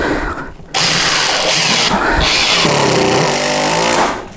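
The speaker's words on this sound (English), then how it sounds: "So no problems at all driving the 5mm screws." A Parkside Performance impact driver sinks a 5mm screw into dense chipboard, running in one loud, continuous burst of about three seconds with a rising, strained tone before it winds down, heard close up.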